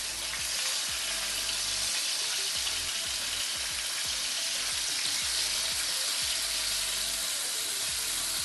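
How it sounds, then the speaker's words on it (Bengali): Paneer pieces frying in hot oil for a paneer prawn masala, giving a steady, loud, close sizzle that runs through the whole stretch with no talking. "একটু ভালো করে মাখিয়ে নিয়ে আমি ভেজে তুলে নেব। এবার একে একে দিয়ে দিচ্ছি পনিরগুলো।"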